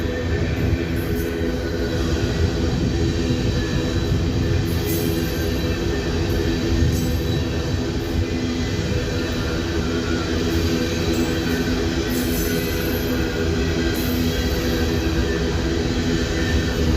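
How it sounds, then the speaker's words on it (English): An empty coal train rolls past on the railway with a loud, steady rumble of wheels and wagons that lasts throughout, with faint metallic squeals now and then. "Empty coal train."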